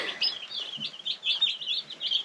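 Dense, continuous high peeping of many baby chicks packed together in a brooder, close and steady with overlapping tweets and no talk.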